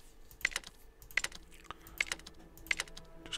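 Computer mouse clicks while someone plays the survival colony builder Surviving The Aftermath, sounding as a handful of crisp, isolated taps spaced about a second apart over quiet background hiss.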